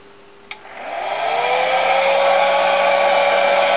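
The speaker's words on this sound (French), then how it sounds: "j'ai la deuxième vitesse forcément sur le sèche-cheveux où on a une chaleur un peu plus conséquente" A hair dryer blowing warm air onto a plastic bottle switches on with a click, then spins up into a steady, loud whirring rush of air with a rising motor whine that holds constant.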